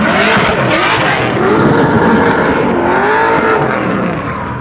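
A tuned car with a swapped LS V8 engine roars and revs steadily at close range, loud and continuous throughout, with a slight fade at the end.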